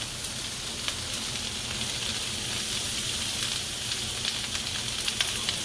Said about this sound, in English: And I'm going to add some garlic.